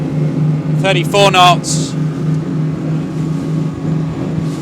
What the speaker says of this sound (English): Those engines sound gorgeous.